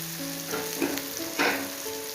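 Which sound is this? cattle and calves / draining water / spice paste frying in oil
spice paste frying in oil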